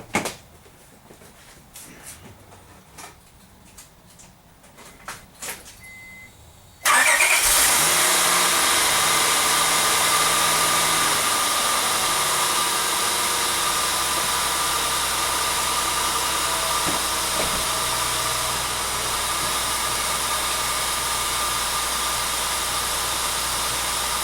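A 2004 Honda Pilot 3.5 V6 with a freshly replaced timing belt cranks and catches after some quiet handling noises, then settles into a steady, loud, close idle that runs on alone.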